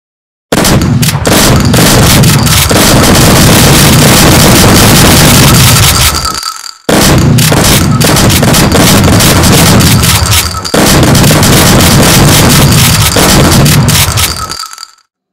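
Rapid-fire bursts from an alien shotgun in a video game, loud and dense, with dozens of shots in long continuous volleys split by two brief pauses, no voices.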